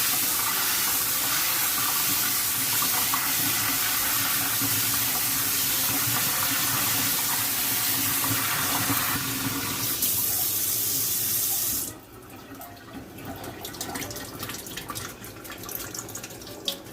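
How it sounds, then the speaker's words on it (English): Cold water gushes from a kitchen sink tap in a loud, steady rush for about twelve seconds, then cuts off, leaving quieter dripping and light handling sounds in the sink. "get the cold water going"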